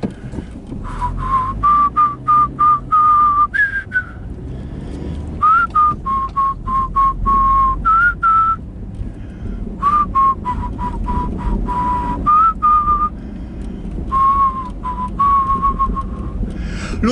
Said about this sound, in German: Und noch faszinierender finde ich persönlich das Pfeifen.